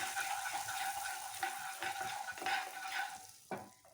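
Paneer kebab mixture sizzles in a hot kadai, a steady bright frying hiss with repeated scraping stirs and one sharper clatter near the end. No voice is heard.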